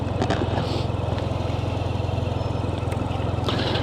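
A new BMW R12 GS with an oil-air cooled 1200 engine runs close by, a steady loud low throb with an even pulsing rhythm throughout and brief faint knocks on top.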